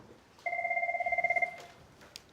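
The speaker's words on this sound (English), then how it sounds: "When I pick this phone up, don't start talking." A landline telephone in a school office rings with a steady electronic warble, a rapid pulsing burst lasting about a second, close and clear, followed by a faint click.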